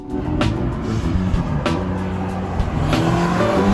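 A 620-horsepower Ferrari Portofino with an 8-speed dual-clutch transmission drives with a steady, loud engine roar and road rumble throughout, punctuated by a few brief sharp transients.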